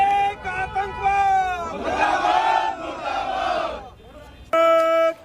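A protest crowd shouts slogans against Islamic extremism at an effigy-burning demonstration in Manesar. Loud massed voices surge in rhythmic chant-like bursts, then cut off briefly before a sharp renewed shout.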